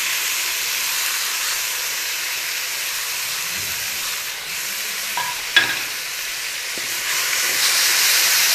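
Crushed frozen tomatoes go into a pan of frying onions for a brinjal dish and set off a loud, steady hiss and sizzle. Faint stirring scrapes run under it, with one sharp clink partway through.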